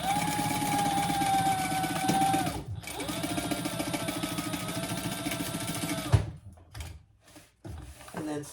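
A sewing machine stitches the sides of a small crossbody bag, running in a steady whirring stream with a short break near the middle before stopping, followed by a few quiet handling knocks.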